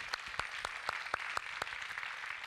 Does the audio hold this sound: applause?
yes